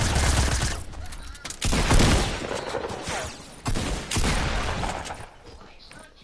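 Sustained bursts of video game gunfire in a multiplayer shooter, loud and dense, arriving in several waves separated by brief lulls, with some voices mixed in.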